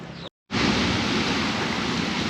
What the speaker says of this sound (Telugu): సో డ్యామ్ యొక్క వాటర్ ఫ్లో అయితే ఈ విధంగా అయితే ఉంది